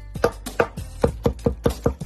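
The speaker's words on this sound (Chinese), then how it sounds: "用刀背把羊油和辣椒剁碎" The back of a kitchen knife chops boiled mutton fat and dried red chilies on a board, nine sharp evenly spaced thumps in quick steady rhythm, close and clear with no talk.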